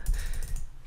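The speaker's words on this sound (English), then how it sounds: "I don't really want to type pinata." Quick typing on a computer keyboard while writing Rust code, a short run of close, soft key clicks heard alone with no talking.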